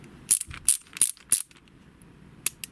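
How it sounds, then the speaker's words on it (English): Stubby ratcheting screwdriver with a stiff ratchet ring, clicking in a handful of sharp, distinct ticks at an uneven rhythm, close and fairly loud against a quiet background. "it's quite stiff to operate the little ring on here for the ratcheting"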